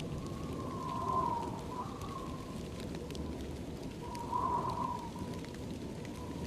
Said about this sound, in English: Rain pours down around you.